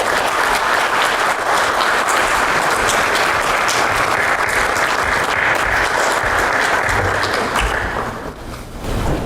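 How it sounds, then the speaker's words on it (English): An audience at a CII Partner Summit road show in South Korea gives a dense, sustained round of applause welcoming Andhra Pradesh's Human Resources Development minister, the clapping steady and full before thinning out near the end. "Please welcome him with a warm round of applause."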